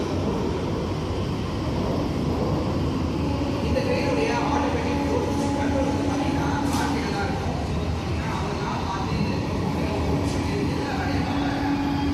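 Steady rumble and rolling clatter fill the interior of an AC local suburban train running from Tambaram to Chengalpattu, with a low hum and a few sharper squeals, while someone talks over the continuous noise.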